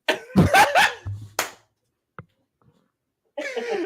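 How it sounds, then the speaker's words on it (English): A short burst of throat clearing and coughing at the start, followed by silence, a faint click, then more noise at the end. "We're just clearing my throat."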